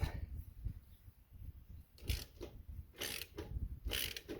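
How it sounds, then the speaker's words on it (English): Ratcheting wrench tightening nuts on an RV spare tire rack, with several short bursts of quick metallic clicking separated by pauses, close and fairly quiet. "Let's go get our wrenches and tighten these up."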